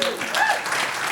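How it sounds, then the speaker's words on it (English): A film club audience claps for the entrants of an AI film challenge, a brief dense burst of many hands with a voice partly over it. "Another round of applause for"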